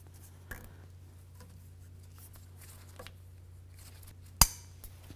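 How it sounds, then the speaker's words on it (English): Pliers snug a wire tie on the inner tie rod of a 2007-2014 Cadillac Escalade, with faint clicks and small scrapes over a low hum, then one sharp snip as the excess is trimmed. "go ahead and snug up that wire tie with some pliers and then trim off the excess"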